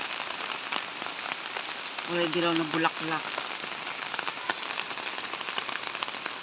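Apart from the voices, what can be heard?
rain falling during typhoon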